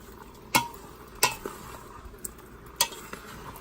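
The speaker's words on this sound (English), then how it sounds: "Stir this all well together" A spoon scrapes and knocks against a pot of Vietnamese beef stew (bo kho), making several sharp metallic clinks spaced irregularly over a soft, steady background with no talking.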